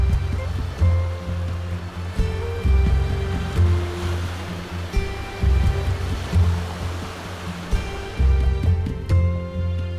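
Indian Ocean waves breaking on the Bali seashore, a loud, rolling wash of surf that swells and recedes in repeated surges, close by and without speech.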